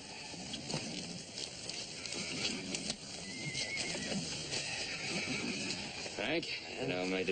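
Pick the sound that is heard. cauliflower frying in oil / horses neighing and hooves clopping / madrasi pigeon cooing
horses neighing and hooves clopping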